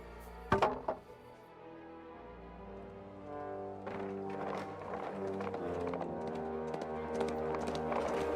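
Horse hooves clip-clop in the medieval game Kingdom Come: Deliverance II, picking up into a steady running rhythm under a sustained musical drone after a sharp opening thump.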